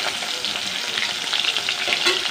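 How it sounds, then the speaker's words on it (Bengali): Pieces of rohu fish fry in hot oil in a pan, giving a loud, steady, close-up sizzle that continues unbroken with no voices. "চলো মাছটা আগে ভেজে নিই। ভেজে রাখছি আমি মাছ ভাজছি।"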